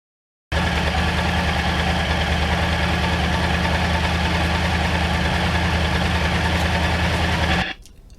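A Yamaha MT-09 motorcycle engine idles steadily and loudly with a low, even rumble for several seconds, then cuts off abruptly near the end.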